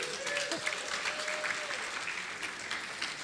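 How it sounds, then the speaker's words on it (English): Dinner audience at a yeshiva anniversary event applauding, a steady wash of clapping with a voice briefly heard over it, moderately faint. "You can applause for him, it's okay."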